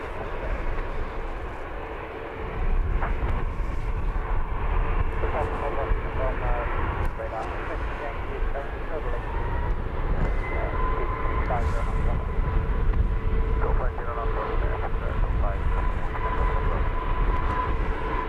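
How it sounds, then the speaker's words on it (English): A Ryanair Boeing 737 MAX 8 jet taxis at Luton Airport, its engines producing a steady, loud whine and rumble that swells after a couple of seconds and holds, with people talking over it. "Ryanair hooning up the taxiway is off to Dublin."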